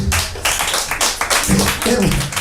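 A stand-up comedy audience claps loudly and steadily, dense overlapping hand claps filling the room throughout.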